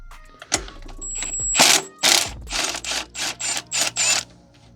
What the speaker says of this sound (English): Now we're gonna need a deep socket for that one. All right, I have a 14 mil deep socket.